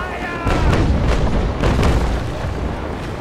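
Naval cannons, including small 2-pounder guns, fire in the Naval Action sailing warship game as several deep, heavy booms in quick succession, each followed by a rumbling tail.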